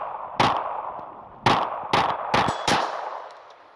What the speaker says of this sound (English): I'm just going to pull it out of my fanny pack and throw a couple of rounds here.